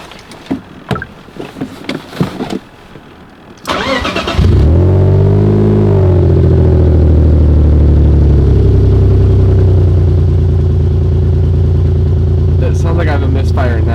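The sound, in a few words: BMW E46 engine running with a misfire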